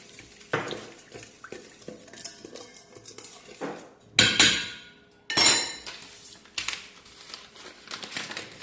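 Spoon mixing oil and salt into kebab bread dough in a bowl, with clinks of the spoon and bowl, scraping stirs, and two louder clattering bursts in the middle, close and without talk.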